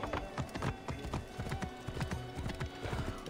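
Horse hooves clatter in Assassin's Creed Origins, a close, steady clip-clop with a quick rhythmic beat that continues without a break.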